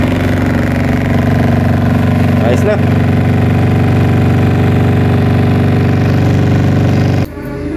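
A Union Lavomatic clothes dryer runs with a newly replaced motor, giving a loud, steady, close hum that holds without change. A brief spoken remark sits over it, and the hum drops away just before the end.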